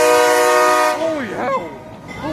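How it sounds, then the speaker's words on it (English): A Finger Lakes Railway passenger excursion train sounds its horn in the evening, a loud, close, sustained multi-tone blast that cuts off after about a second, followed by fading echoes and a brief shout. "Honk that horn!"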